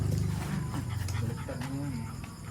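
A dog pants close to the camera in a home setting during a seafood meal, quick breathy huffs mixed with a brief whine under ongoing talk.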